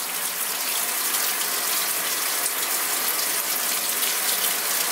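Washing machine starting a 47-minute cycle with a shirt inside, water gushing in steadily as it fills; a continuous, fairly loud broadband rush with faint mechanical ratcheting, no pauses.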